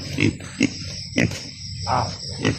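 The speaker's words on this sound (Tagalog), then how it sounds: "Dapat dala na namin ang alay nga baboy dahil para sa kinabuhay ni Mikoy." A live pig brought as a ritual offering grunts repeatedly up close, with short, rough snorts in an irregular rhythm over faint background noise and no talking.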